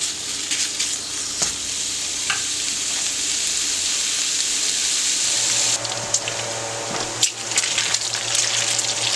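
Chunks of bacon frying slowly and rendering their fat in a pan, a constant crackling sizzle with a few sharper pops and stirring scrapes, close and steady without speech.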